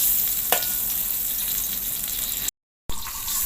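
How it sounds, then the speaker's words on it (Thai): Salted butter sizzling steadily as it melts in a frying pan, the first step toward pork burgers with chopped onion; a brief sharp tick early on, then a cut to near silence before the crackle resumes. "เราก็ละลายเนยก่อนค่ะ"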